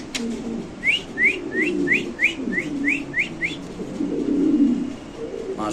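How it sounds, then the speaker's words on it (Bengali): Pigeons cooing in a loft of prized fancy pigeons: low throaty coos roll on steadily, while a run of nine quick rising whistles sounds midway. No voices are present. "তো দর্শক এখানে আছে একটা মাথা নষ্ট কবুতর, একদম টপ কোয়ালিটি দর্শক"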